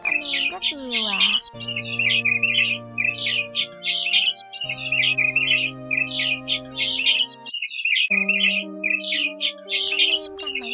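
A migratory white-headed starling sings a long, varied string of bright chirps, whistles and squawky phrases, repeated in bursts over a layer of steady electronic-sounding tones, clear and close.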